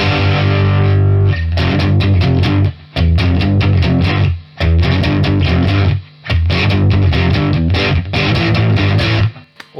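An electric guitar through a Boss Katana 50 amp with a distortion effect plays loud, saturated chugging riffs in repeated bursts with brief pauses between phrases, alone without talk.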